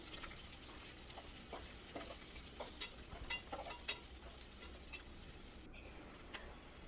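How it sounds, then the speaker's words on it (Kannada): Chopped onions frying in a pan with cardamom for an egg biryani, a faint, steady sizzle with scattered small crackles and light ticks throughout. "ಈ ಹಚ್ಕೊಂಡಿರೋ ಈರುಳ್ಳಿನ ಹಾಕ್ಕೊಂಡು ಸ್ವಲ್ಪ ಹಸಿ ಸ್ಮೆಲ್ಲೆಲ್ಲ ಹೋಗೋವರೆಗೂ ಫ್ರೈ"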